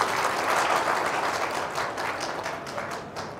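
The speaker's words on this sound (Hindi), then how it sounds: "अपने लिए ताली बजा दीजिए" Graduates at the ninth convocation ceremony of OPJS University in Churu clap together in a dense, loud burst of applause that fades slightly as it goes on.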